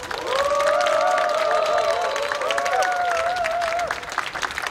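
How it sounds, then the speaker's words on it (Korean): A large crowd claps and cheers at an outdoor Korean election campaign rally backing a candidate. The sustained, loud applause runs throughout, with tonal voices or horns sliding above it. "여러분 우리 문재인 대통령에게 더 힘내라고 박수 한번 보내주십시오."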